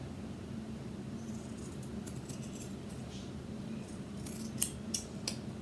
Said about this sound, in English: I have these really weird loose ends, so I'm just going to cut it off to make it all even.